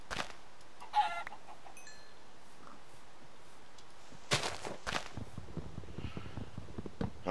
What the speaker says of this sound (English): Come here, chicken.